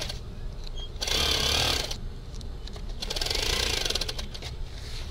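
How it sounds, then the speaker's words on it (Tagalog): Sewing machine stitching along the edges of a net sock, running in two loud bursts with a steadier mechanical whir between them, close by and without talk. "Tahiin ko lang yung gilid-gilid."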